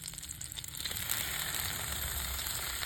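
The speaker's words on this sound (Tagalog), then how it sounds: "Magluto tayo ng ating salmon." Salmon frying in butter in a pan, a steady bright sizzle and crackle that swells after the first second and holds close and even, with no talk.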